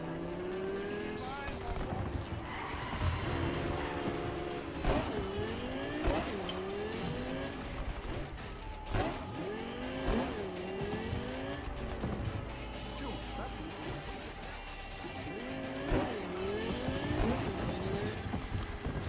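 A low-slung car races through city streets in Cyberpunk 2077, engine revving hard with repeated tire squeals and skids and a possible crash, loud and continuous throughout.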